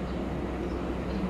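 The Argo Dwi Pangga train pulls out of a station, a steady low rumble of rolling wheels and wagons, continuous and moderately distant with no talk.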